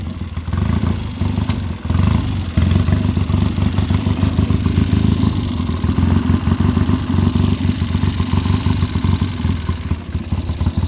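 A 1969 Triumph Trophy TR6R motorcycle engine runs steadily and loudly up close, a continuous throbbing, clattering idle with small swells in revs and no talking.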